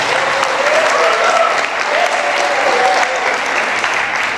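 Loud, steady applause from a madrasah graduation audience honouring teachers at a farewell ceremony for twelfth-grade students, a continuous wash of clapping lasting about four seconds with no talk.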